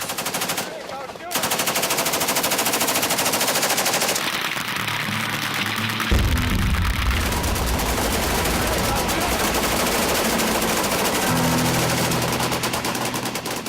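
Rapid, sustained automatic gunfire at a shooting club, loud and nearby, with targets such as pumpkins or gas canisters, running almost continuously after a brief pause at the start.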